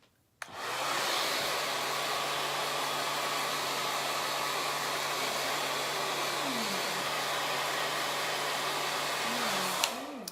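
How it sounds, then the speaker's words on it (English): An old Yellowbird blow dryer switching on and running with a steady loud whooshing roar and a constant motor hum, close by, with a slight pitch shift near the end before it cuts off. "But this particular blow dryer is called a Yellowbird."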